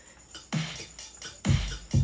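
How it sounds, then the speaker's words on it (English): A cymbal crash in a home-produced track, heard as several sharp, bright hits with a thudding low beat beneath, each crash ringing briefly before the next, fairly quiet and with no talk. "And then I add a cymbal crash"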